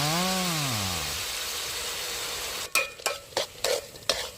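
Pork pieces sizzle steadily in a hot pan as fish sauce is poured in, followed by several sharp clattering stirs and scrapes near the end, with no talking.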